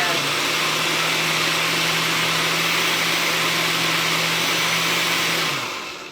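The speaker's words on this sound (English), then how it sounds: "Okay, I switched it to chop." An aging Oster blender on its chop setting making slaw, a loud steady motor whir running close for about five seconds before winding down, with no talking heard.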